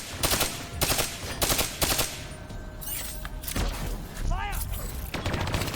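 Rapid bursts of automatic turret gunfire in the Black Ops III campaign level New World, loud repeated volleys with short pauses, explosions and whooshing effects mixed in, all close and dense.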